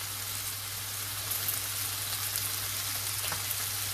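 Potatoes fry in a pan with honey and garlic, giving a steady, dense sizzle with faint pops and crackles, continuous and close with no talking.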